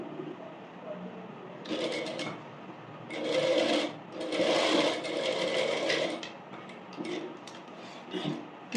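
A sewing machine stitches a puff sleeve in bursts of fast whirring, starting and stopping several times, close but fairly quiet, with no speech.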